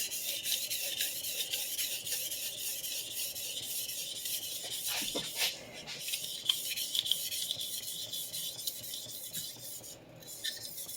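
A vintage Clyde Cutlery chef knife being drawn across a sharpening stone, a steady close rasping scrape that runs continuously with brief pauses and slight shifts in stroke.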